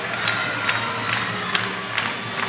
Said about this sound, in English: a lot of roaring going on here at Spartan Bowl, a lot of cheering as the Spartans come back onto the floor